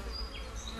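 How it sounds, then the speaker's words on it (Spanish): Flies buzzing around a golden eagle chick in its nest on a warm late-April day: a brief, faint, close insect drone with a wavering whine. "las moscas atormentan al polluelo de águila"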